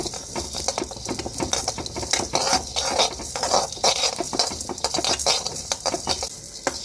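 Chicken dry-frying with pepper in a pan with no oil, heard as dense continuous crackling and patter mixed with constant scraping and clattering from stirring, fairly loud and close throughout.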